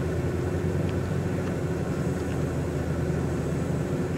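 Airplane engine in Microsoft Flight Simulator 2020, a steady broad drone running at constant level through the cockpit, without a clear rise in pitch.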